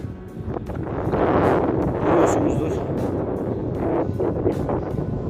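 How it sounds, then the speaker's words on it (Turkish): Strong wind buffets the microphone with a steady roar while someone speaks Turkish over it, on a shallow lake while carp fishing on a hot summer day. "bu yaz sıcağında müthiş bir rüzgar çıktı"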